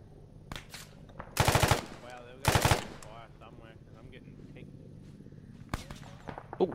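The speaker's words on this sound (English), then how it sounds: "Oh shit, we're taking fire now." Incoming gunfire in the Arma 3 military video game comes as two loud, rapid machine-gun bursts close together, followed by scattered single shots. Voices talk over the quieter stretches between them.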